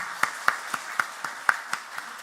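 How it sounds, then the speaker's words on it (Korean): A church congregation claps in a steady, even rhythm at an Easter Sunday service, about four sharp claps per second, moderately distant and with no voices over them. "하나님께 영광의 박수를 한번 올리도록 하겠습니다"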